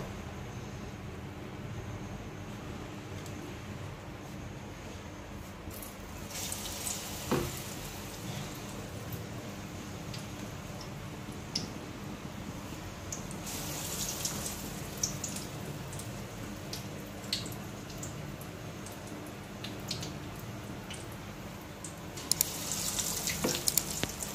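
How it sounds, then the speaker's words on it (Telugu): Onion bajji fritters in hot oil, Telangana style, hissing with a continuous soft crackle punctuated by occasional louder pops and splatters, close by and without any voices. "ఇప్పుడు ఆనియన్ బజ్జీలు వేసుకుంటాం."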